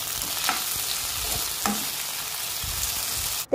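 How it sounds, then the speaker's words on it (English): Chopped tomato and green chili are stirred in a frying pan, giving a steady close sizzle with a few soft scraping strokes and a sharp clatter at the end. "Then add chopped tomato, green chili. Then mix it well."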